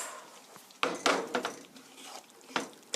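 Penne in tomato sauce being stirred and shaken in a pan with the heat off, giving a few sharp scraping clatters of utensil against metal between softer wet sloshing.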